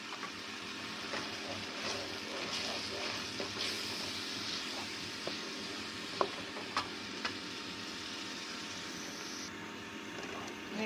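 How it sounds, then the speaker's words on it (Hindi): Salt, chilli and fenugreek roast in oil for daal mash, a soft continuous sizzle with a few faint spoon clicks and scrapes, quiet and close, with no talking. "मसाले को अच्छी तरह हमने भूनना है।"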